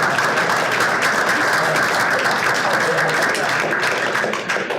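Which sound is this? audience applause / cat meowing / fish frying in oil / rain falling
audience applause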